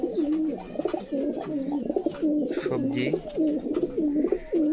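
Several racer pigeons coo continuously and up close in rhythmic, bubbling rolls, with occasional higher chirps overhead and a brief spoken word partly over them.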